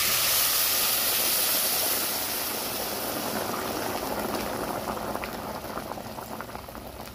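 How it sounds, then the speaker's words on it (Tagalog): Vigorous bubbling of a pot of pork and water at a rolling boil, a dense steady hiss and gurgle close by that eases slightly after a couple of seconds. "Pakuluan hanggang sa lumambot."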